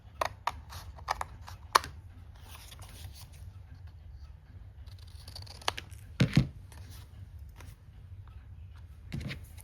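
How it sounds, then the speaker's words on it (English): Scissors snip through vintage wallpaper cut straight across for handmade cards, a few sharp close cuts and rustles spaced over a quiet room tone, with no talking. "And now I can just cut straight across."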